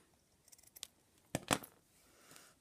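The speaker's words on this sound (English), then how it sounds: "I'm just going to cut a piece off." Scissors snip through a length of ribbon while crafting a felt bookmark, a few light quick closes followed by two sharper, louder cuts close by, with no talking.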